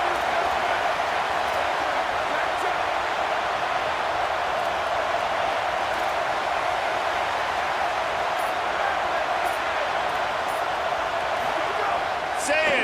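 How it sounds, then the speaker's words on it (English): A steady, dense roar from a stadium crowd at a Texas A&M versus Ohio State college football game plays continuously under a commentator's talk. "this crowd trying to help keep them there"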